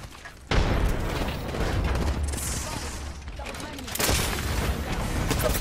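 A frag grenade goes off in an Apex Legends match with a sudden loud boom, followed by a sustained rumbling roar and a second blast burst near the end, amid dense game effects and gunfire.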